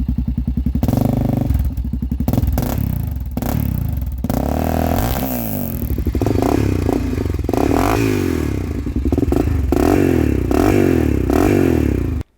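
A motorcycle fitted with an HMF aftermarket exhaust revs loudly and close up, its engine note rising and falling in repeated throttle blips over a constant idle, ending abruptly.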